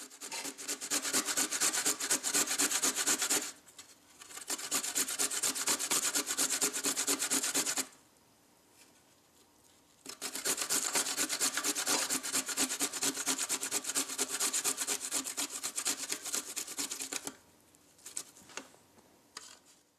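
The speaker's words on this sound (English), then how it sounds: "Once the ginger is peeled, take your grater on a plate to collect the shavings." Freshly peeled ginger is rubbed on a sharp-edged grater over a plate, giving close, rhythmic raspy scraping strokes in several bursts separated by short pauses, with no talking.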